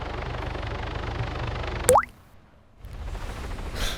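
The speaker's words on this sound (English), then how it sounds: "they changed the helicopter splash effect when it crashes into the water" In the game Arma 3, a helicopter's steady mechanical drone is cut by a sharp rising plop as it crashes into water, followed by near silence and then faint watery ambience returning.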